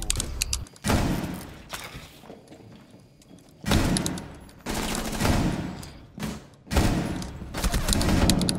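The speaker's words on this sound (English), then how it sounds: "I hit him with this whole 100 rounds" Bursts of automatic gunfire in Rainbow Six Siege, including a 100-round magazine being emptied. Several loud, dense volleys are separated by quieter gaps, with thuds mixed in.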